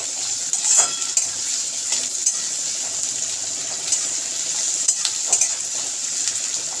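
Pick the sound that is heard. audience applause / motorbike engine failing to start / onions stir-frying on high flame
onions stir-frying on high flame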